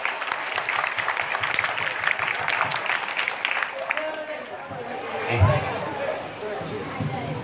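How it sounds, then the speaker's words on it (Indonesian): At a junior high school farewell ceremony, an audience claps for a student, steady applause mixed with chatter that fades after a few seconds into murmuring and a brief bump of noise. "Tepuk tangan buat Alif"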